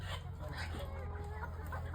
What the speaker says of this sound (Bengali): just have a look guys, কতগুলো মুরগি এখানে